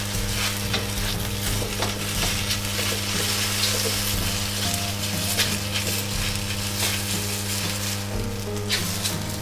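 Wide rice noodles for beef chow fun fry and char in a hot wok, a loud, unbroken close sizzle with constant stirring scrapes and light knocks, no voices.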